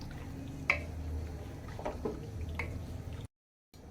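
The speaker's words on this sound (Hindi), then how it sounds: "अब इसमें चिकन ऐड कर देंगे और इसे मिक्स कर लेंगे।" Raw chicken is tipped into a pan of frying onions for white korma and stirred, giving soft, faint wet squishes and a few sharp clicks, followed by a brief drop to silence.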